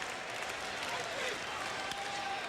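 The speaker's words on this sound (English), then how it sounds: "Big round of applause down that first base line as he comes down to his camera position." A crowd at a baseball stadium applauds before a Rangers at Red Sox game, a distant, faint wash of clapping with a broadcaster's voice over it.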